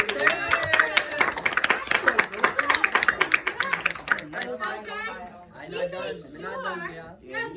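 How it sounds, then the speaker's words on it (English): A seminar group of students claps in quick, close rapid bursts for several seconds, then the clapping fades as several voices chatter and talk over one another. "Let's give a cheer."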